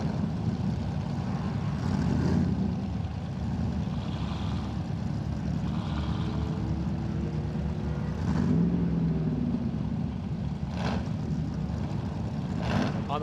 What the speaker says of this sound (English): car sounds mean as he heads up through that first bend